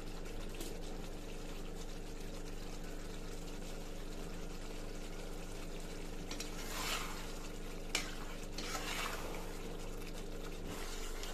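Curry leaves go into a simmering chicken gravy in a home kitchen, giving a steady close bubbling sizzle with light stirring and brief bursts of louder spattering, no voices.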